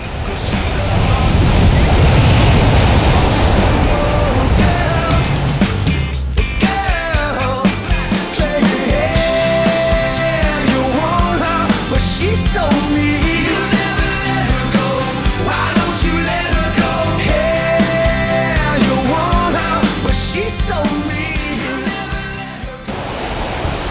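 Rough ocean surf at Bondi Beach, Sydney, roars loudly as a broad, hissing wash for the first several seconds before music takes over and continues to the end.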